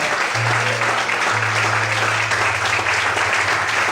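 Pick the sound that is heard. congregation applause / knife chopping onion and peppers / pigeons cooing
congregation applause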